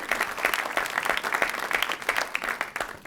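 A round of applause from a live audience at a WBUR CitySpace conversation event: dense, even clapping, moderately loud, with no voices over it.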